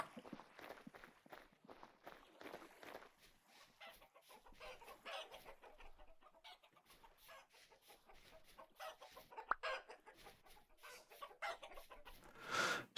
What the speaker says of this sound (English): I should leave the chickens alone so they can eat and lay lots of eggs for us.